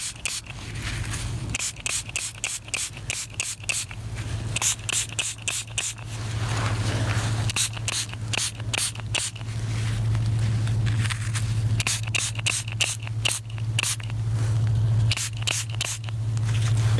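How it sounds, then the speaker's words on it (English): A hand spray bottle squirts in quick clusters of sharp hissing bursts while a found coin is cleaned, repeated rhythmically over a steady low hum. "Grab my spray."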